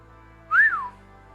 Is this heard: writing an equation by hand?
no